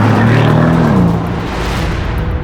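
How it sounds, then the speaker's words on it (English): A 2025 Porsche Panamera GTS with a 4-liter twin-turbo V8 drives past loud and close, its engine note dropping in pitch as it moves away and fades into road noise. "you get this 4-liter twin-turbo V8"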